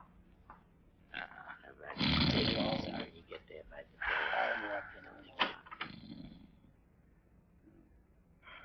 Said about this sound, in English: He's asleep, all right. I can hear him snoring.